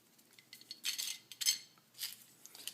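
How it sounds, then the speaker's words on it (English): A garlic press squeezes garlic in a home kitchen while Greek meatballs for egg-lemon soup are prepared, giving a few faint, close metallic clicks and squeaks in short bursts. "now we're going to add some garlic. I have a garlic press here"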